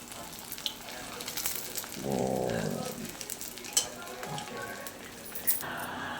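Leftover idli pieces fry in a hot pan with a soft, steady sizzle, a denser burst of crackling in the middle and a few small clinks of a utensil, all fairly quiet and close.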